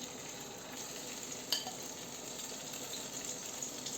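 Battered zucchini slices, coated in flour and egg, sizzle and crackle steadily in a hot pan, a constant hiss with one brief louder pop.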